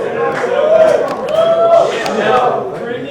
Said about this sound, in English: He's got a whole cheering section over here.